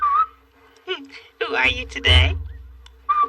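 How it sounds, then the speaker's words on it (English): A person whistles short, clear tones at the start and end, close by, with a voice speaking briefly in between. "You're a whistler? Oh, I love to hear people whistle."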